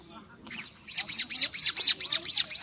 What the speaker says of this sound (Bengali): এই পাখি দুটো ঝগড়া করছে